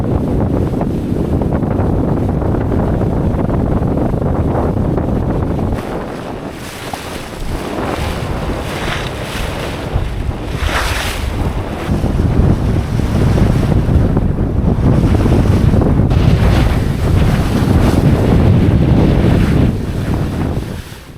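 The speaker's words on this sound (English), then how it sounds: "This is nice sailing." A sailboat cruises along the Baja coast as strong wind roars across the microphone and waves wash and splash against the hull, continuous and loud for the whole stretch with no talk.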